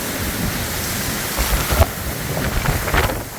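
Steady rain pours down during an Arizona thunderstorm, a dense continuous hiss filling the clip with a few slightly louder gusts or spatters toward the end, and no voices.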